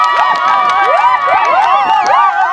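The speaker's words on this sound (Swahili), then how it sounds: "Ipigieni makofi mengi sana." A political rally crowd cheers and shouts loudly and continuously, with rising and falling voices layered into a dense, steady roar and some scattered applause underneath.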